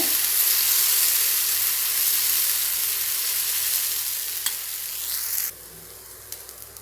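Adai batter, made without lentils, sizzles steadily on a hot stone griddle greased with a little oil, a close, loud, continuous hiss that drops suddenly to a quieter sizzle near the end.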